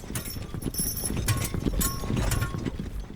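Horse hooves clip-clop steadily at a walking pace as a horse pulls a wagon, the rhythmic knocks fairly close and continuous, with some faint background noise beneath.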